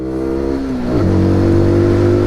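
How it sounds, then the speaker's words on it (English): A SYM NH-X 125 motorcycle engine is punched to full throttle out of a bend, its close, loud note dipping briefly then climbing into a strong, steady, harmonic-rich rev. "chuck it into the bend and punch it out full throttle"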